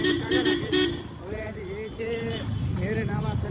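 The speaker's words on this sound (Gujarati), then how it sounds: "હોર્ન માર કરે છે." Car and auto-rickshaw horns honk repeatedly in close street traffic during a Holi outing, with loud short toots over engine rumble and people talking nearby.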